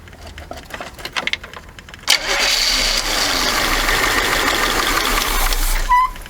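1979 Chevy G20 van with a carburetor and fuel problems cranking in quick uneven pulses, then catching and settling into a loud, steady close run on the choke.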